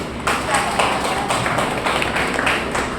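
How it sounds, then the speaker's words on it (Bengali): Steady applause from a meeting audience of social workers in Malda district welcoming a student, a dense wash of clapping with rhythmic swells that runs throughout, loud and close. "জোরে হাততালি হোক ওনার জন্য।"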